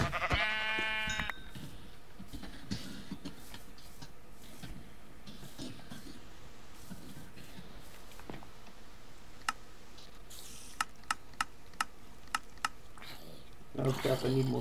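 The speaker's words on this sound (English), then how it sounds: "Come here, sheepy, sheepy, sheepy." Sheep bleating in the Infinicraft video game, short bleats mixed with game ticks, clicks and sharp blips, with a person talking now and then over the game sounds.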